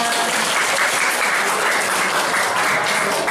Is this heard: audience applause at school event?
yes